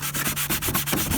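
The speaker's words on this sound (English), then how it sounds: "So, rub it into the rust nice and thoroughly" Cloth or fingers rub fluid into a rusted RC car body, a Traxxas Slash being given a Mad Max custom finish, making steady, close, rhythmic scrubbing strokes, about eight passes in just over a second, with a faint low hum underneath.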